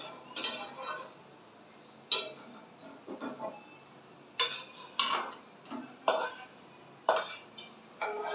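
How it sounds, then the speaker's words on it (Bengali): A spoon scrapes and clinks against a pan as a poppy-seed curry with beans and pointed gourd is poured out, producing several sharp metallic knocks and scrapes spaced between quiet gaps. "তো চলো পোস্তটা ঢেলে নিই।"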